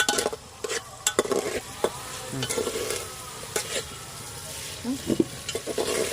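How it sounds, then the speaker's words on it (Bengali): Onion and tomato stirred and fried in a pan for a Bengali-style chicken kasha, with a steady sizzle under repeated sharp scrapes and knocks of a spoon against the pan, close and fairly loud, no voices. "পেঁয়াজ টমেটো খুব ভালো করে কষিয়ে নিয়েছি"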